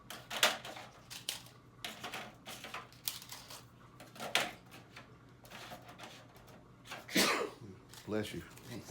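A sharp sneeze bursts out amid clattering kitchen sounds and brief talk, standing out loudly for a moment.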